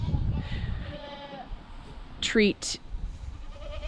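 A goat gives two short, loud bleats close by, one right after the other, between stretches of a person speaking.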